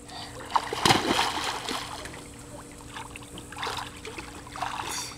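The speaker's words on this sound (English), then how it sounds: "I want to see if you can swim from one end to the other" A child swims and splashes in water, with irregular close splashes and a stronger burst of splashing near the start, then quieter water movement and later splashes.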